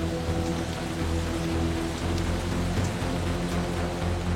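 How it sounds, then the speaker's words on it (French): Steady rain falls on a building site in a town facing severe flooding, a dense even hiss with a low continuous rumble of distant thunder underneath, no voices. "Il commence à pleuvoir tranquillement."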